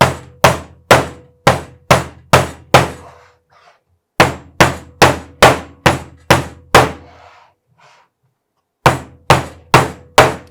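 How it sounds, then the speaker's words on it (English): Sharp hammer strikes on nails into wood, fired off in quick bursts of five to seven blows with short pauses between groups, loud and close, no talking. "We're going to go ahead and finish all these nails now."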